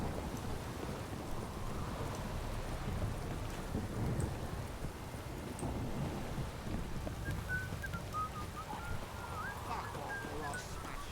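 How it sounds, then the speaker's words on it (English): Heavy rain downpour in The Witcher 3 game, a constant dense hiss of rain with low rumbling underneath, steady and moderately loud for the whole stretch, with brief tonal game sounds near the end. "This downpour's a bastard."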